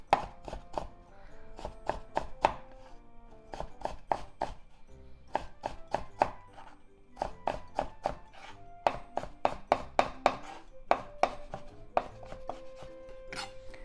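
A knife mincing food on a cutting board, rapid bursts of sharp chopping taps in quick rhythmic runs separated by short pauses, close and crisp, with no talking.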